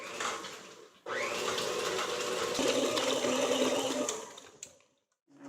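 A stand mixer with its paddle beating fruitcake batter starts abruptly and runs with a steady, close motor whir and rattle for about three seconds, then winds down and stops.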